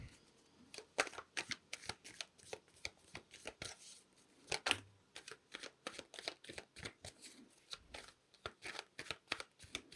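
Tarot cards being shuffled close up: a long run of quick, crisp riffling snaps and flicks in irregular bursts, fairly quiet and clear with no talking over them.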